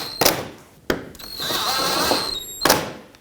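A power tool driving screws into a plastic fog light bezel on a 2012-2017 Toyota Camry SE, short sharp bursts with a rising whine in the middle, close and loud, nobody speaking.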